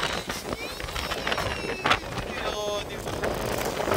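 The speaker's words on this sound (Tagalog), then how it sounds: "Grabe ang lakas ng hangin." Strong wind buffets the microphone on a roof deck near Tagaytay, gusting and roaring unevenly for several seconds while people talk underneath.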